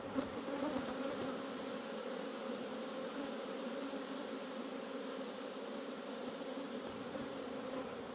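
A dense, steady buzz of many honeybees swarming close by, continuous and even, with no voices.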